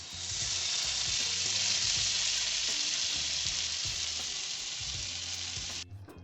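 Chicken pieces sizzle loudly in melted butter in a pan, a dense, bright steady frying hiss with light stirring clinks underneath that cuts off abruptly near the end.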